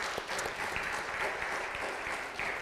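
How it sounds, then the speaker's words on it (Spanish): Church congregation at a sermon applauding together, a steady, fairly soft wash of many hands clapping with a few sharper individual claps standing out, no speech. "Démosle un aplauso al Señor."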